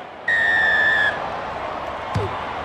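A referee's whistle starts a rugby match on a pitch in good condition, one loud sustained blast of nearly a second over steady crowd noise, followed by a brief thump.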